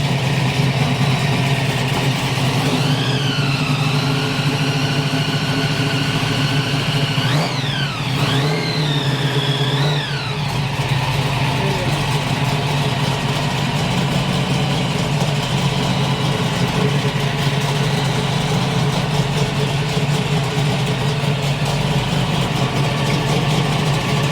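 Classic supercharged blower car engine, likely a Camaro, idling loud and close with a steady rumble, then several sharp revs that rise and fall, followed by a continued heavy idle, no talking.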